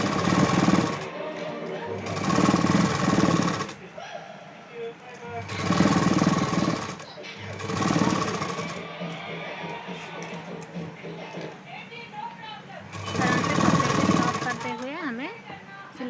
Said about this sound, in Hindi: अब हम इस पूरी क्लॉथ के लाइनिंग के और मेन फैब्रिक के पूरी तरह से जॉइंट कर लेंगे, पूरी तरह से सिलाई लगाकर